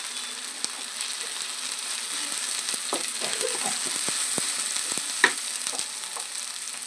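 Egg fried rice with chili powder and salt being stirred in a hot pan, a steady sizzle broken by scraping spatula strokes and a few sharper clinks, with no voices.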